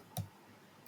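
Two isolated key presses on a computer keyboard during HTML and CSS coding, quiet close clicks about 0.7 seconds apart, with nothing else audible.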